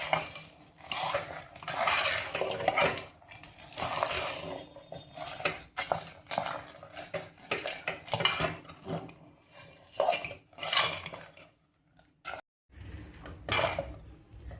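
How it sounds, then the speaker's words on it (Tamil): Pongal with rock sugar is stirred in a pot over a low flame, with a metal spoon scraping and clinking against the vessel in uneven bursts and short pauses, close by. "கல்கண்டை சேர்த்துக்கலாம் அடுத்த சிம்ல வச்சு கிளறி கொடுத்துக்கலாம்"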